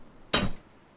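A structure piece gets knocked loose in the survival game Stranded Deep, a single sharp wooden thunk lasting about a quarter second, close and clear over near-silence.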